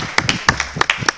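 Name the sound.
audience applauding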